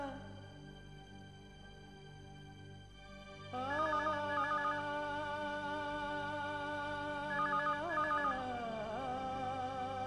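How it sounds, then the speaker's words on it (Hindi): A telephone ringtone plays steadily, electronic and tonal, swelling louder partway through and continuing without pause. "फोन बज रहा है, उठा क्यों नहीं रहे हैं आप?"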